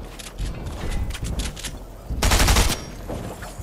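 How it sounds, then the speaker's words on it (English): Rapid automatic gunfire in the Fortnite video game striking player-built metal walls, sounding as loud, close bursts of shots with one dense heavy volley near the end, while a player's voice talks over it. "Why are they shooting that metal?"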